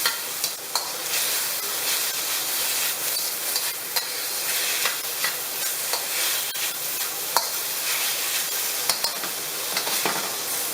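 Beef is broken up and cooked in a hot pan with a loud, continuous close sizzle and frequent scraping and stirring taps, with no talk over it.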